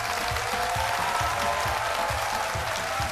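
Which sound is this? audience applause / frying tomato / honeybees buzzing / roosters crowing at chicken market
audience applause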